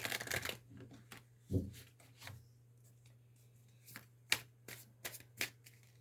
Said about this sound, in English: I'm shuffling the deck, which I don't usually do as much.